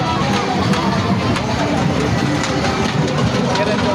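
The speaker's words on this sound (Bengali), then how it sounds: "সামনে ট্রেন চলে" A train rumbles past steadily and loudly at a park, its low engine drone and rail noise filling the whole stretch without a break, with voices mixed in.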